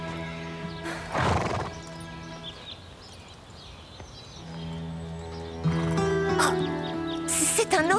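A horse whinnies loudly, then snorts and neighs again amid clattering hooves and brief voices nearby.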